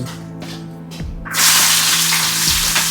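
Onions and green chillies are frying in oil for a bamboo-shoot curry, starting as light taps over a low hum and then breaking into a loud, steady close sizzle that carries on to the end.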